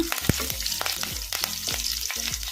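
Mustard seeds, cumin and curry leaves are tempered in hot oil for a buttermilk saaru, crackling and popping rapidly up close with bursts of spatter and brief stirring.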